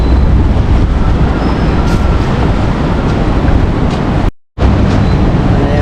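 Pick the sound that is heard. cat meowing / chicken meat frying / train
train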